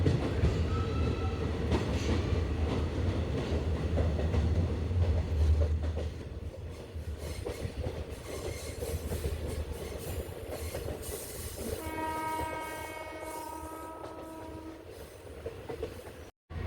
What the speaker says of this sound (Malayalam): ട്രെയിൻ ഇപ്പോൾ ഒരു ടണലിലേക്ക് കയറിയിരിക്കുകയാണ് കേട്ടോ.